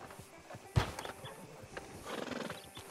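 A horse in the Western video game Red Dead Redemption 2 gives a sharp snort or whinny, followed by hoof clip-clops and soft movement noises, fairly close and moderately quiet.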